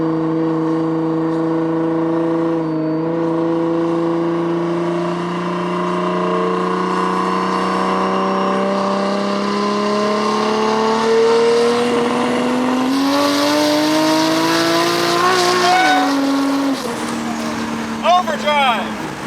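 A 1300 HP Toyota Supra race car accelerating hard, its engine note climbing steadily and loudly before a downshift breaks the pull, with a voice talking over the roar throughout.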